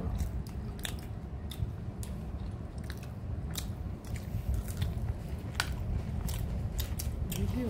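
Someone chews bread with french fries close to the mic, a run of soft wet bites and crunchy munches in an irregular rhythm, quiet overall with no talking.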